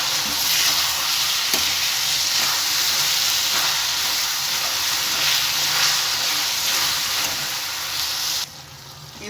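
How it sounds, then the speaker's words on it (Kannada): Avarekalu (hyacinth beans) frying in oil, a dense, loud, hissing sizzle with occasional soft stirring knocks, steady until it suddenly drops off near the end, heard up close with no voices. "ಈಗ ಇದನ್ನು ಎಣ್ಣೆಲೆ ಇದೇ ರೀತಿ ಫ್ರೈ ಮಾಡ್ಕೋಬೇಕು"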